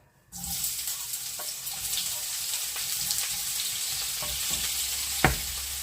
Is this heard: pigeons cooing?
no